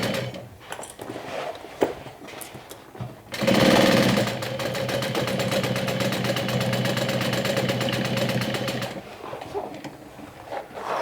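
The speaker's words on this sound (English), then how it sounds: "be careful when you sew over all those layers" A sewing machine runs in one long, steady burst of rapid stitching through stacked fabric and vinyl layers, loud and close, preceded and followed by quieter handling clicks and bumps.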